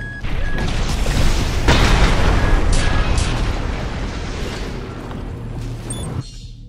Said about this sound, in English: The left shoulder grenade cannon on this AC fires explosive rounds that cause area damage upon impact